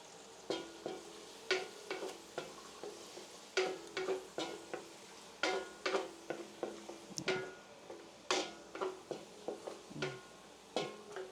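Onion and garlic sauté in a pan as a stew is started: bursts of crackling sizzle come and go with repeated scraping stirs and utensil taps, close and fairly quiet.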